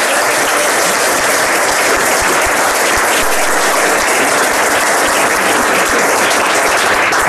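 A conference panel audience applauds to welcome a guest, steady, loud, dense clapping from a large crowd filling the whole stretch without pause.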